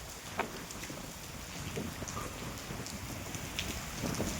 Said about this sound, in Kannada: ಸಿಕ್ಕಾಪಟ್ಟೆ ಮಳೆ ಬರ್ತಿದೆ ಮಾತ್ರ.